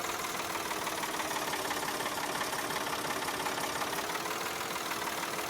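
A tractor engine in Farming Simulator 22 drones at a steady idle, a constant mid-pitched rumble with a faint knocking texture and no variation throughout.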